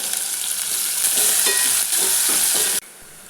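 Steady, loud sizzling of finely chopped onions frying in hot oil for a North Indian style potato gravy, with occasional stirring scrapes, cutting off abruptly near the end.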